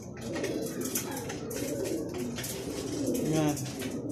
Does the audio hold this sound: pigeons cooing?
yes